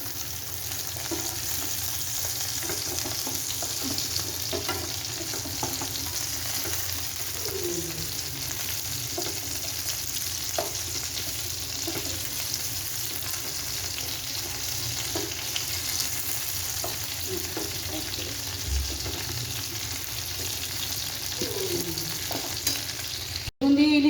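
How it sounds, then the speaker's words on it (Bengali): Hilsa fish frying steadily in hot oil in a pan on a gas stove, a continuous sizzle with occasional clinks and scrapes as the pieces are turned, heard up close with no talking. "মাছটা খুব সুন্দর করে ভাজা হয়ে গেছে তো উল্টে পাল্টে দিই"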